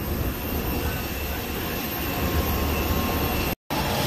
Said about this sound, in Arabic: نشوف هاد الطيارة الصغيرة